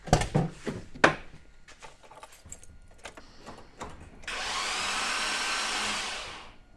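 A Nissan GQ Patrol engine, just fitted with a replacement head, cranks over with a steady whirring spin lasting about two seconds and no sign of firing, after a few light clicks and knocks.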